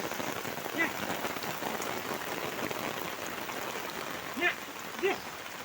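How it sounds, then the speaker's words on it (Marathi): Heavy rain falls steadily on flooded paddy fields, a constant dense hiss with a few louder nearby splashes or drips standing out briefly. "कालपासून पाऊस खूप पडायला लागला आहे पुन्हा"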